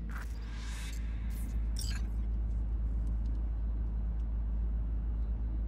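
Car engine from the video game Cyberpunk 2077, a steady low rumble while driving, with a few brief bright bursts of noise early on over the continuous drone and no talk.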